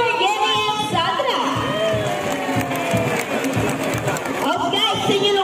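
Audience at a sea lion show at Manila Ocean Park applauds and cheers steadily for two performing sea lions, with a loud, continuous crowd wash and voices calling out over it.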